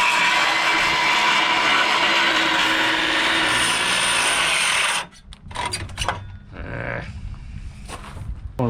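A small cordless drill bores into the wooden planking of a Tahiti gaff cutter boat under restoration, a loud, close, steady whine for about five seconds, then stops, followed by a few short bursts and handling knocks.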